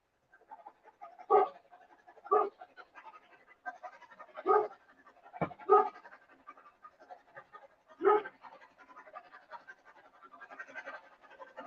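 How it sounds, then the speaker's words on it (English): A dog pants and barks in short bursts, about half a dozen sharp, fairly close calls spaced across the stretch, with ragged breathing and scratchy rustling between them in a home workspace. "My dog's barking at something, but I don't know what."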